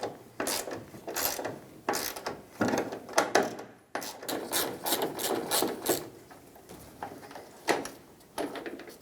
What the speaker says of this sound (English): Use a T50 torque socket and remove the bolt.